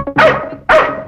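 A dog gives two loud, sharp barks close by, one right after the other, with a brief gap between them.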